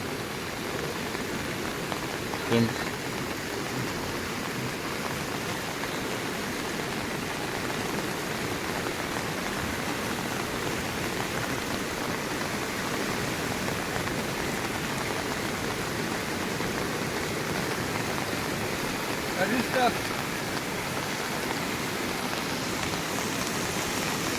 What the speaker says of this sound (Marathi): नदीला आलेला पूर